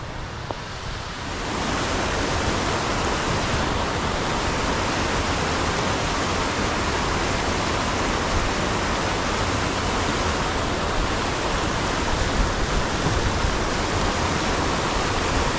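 Waterfall on a wild trout stream, a dense, steady roar of rushing water that swells up after a quieter opening second and holds loud and unbroken throughout.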